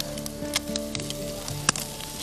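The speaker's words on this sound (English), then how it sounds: "nice sizzle, it's exactly what I want to hear." Food sizzles on a hot grill with a steady crackling hiss, punctuated by a few sharp pops and spits, close and fairly quiet.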